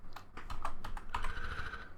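Fingers tap out a quick run of keystrokes on a computer keyboard, close and clattering in an uneven rhythm over two seconds, with no talking.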